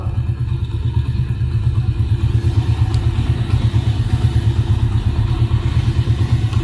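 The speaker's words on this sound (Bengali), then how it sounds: "গাড়িটার সাউন্ডটা কিন্তু একেবারে নতুনের মতন আছে এখনো" A self-start motorcycle engine idles steadily and close by, a low, even rumble that runs unbroken for the whole stretch with no voices over it.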